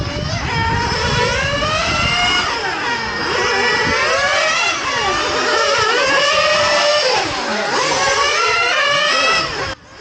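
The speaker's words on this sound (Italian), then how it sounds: "Sentite come nel misto il motore sia molto più pronto di prima." A motor being broken in on a racetrack revs hard through the twisty section, pitch climbing and dropping repeatedly as gears change, loud and continuous for about ten seconds with no talk.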